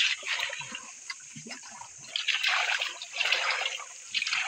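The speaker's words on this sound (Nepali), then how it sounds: "पानी फ्याल्दैछ केटाहरूले भट्टाभट" Water bailed out of a pond by a group of boys during fishing comes in irregular splashes and trickles, with bursts of sloshing between quieter gaps and no clear talk.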